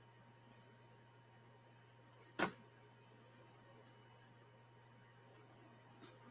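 A few sharp, dry computer mouse clicks at a desk, one louder click standing out among faint scattered ones over a steady electrical hum, with no voices.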